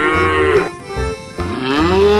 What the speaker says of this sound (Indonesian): Wah, ternyata hewan kerbau